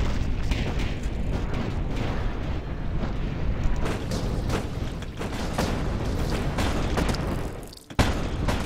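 Dense, continuous booming and blasts of rapid cannon fire in the video game Guts and Glory, loud and relentless, with a brief dip before the barrage resumes.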